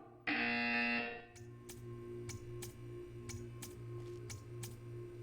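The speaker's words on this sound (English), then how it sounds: "You will hear a buzzer." A loud electronic buzzer sounds for about a second, followed by a steady series of evenly spaced ticks over a low hum, in the video game Portal 2.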